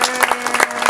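Audience applauding a valedictorian at a graduation ceremony, a short burst of dense, lively clapping from a crowd.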